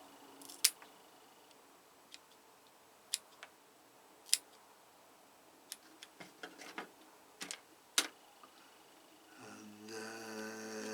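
Scissors snip at an orchid's roots during repotting, giving a scattering of small, crisp cuts at irregular intervals. A low steady hum comes in near the end.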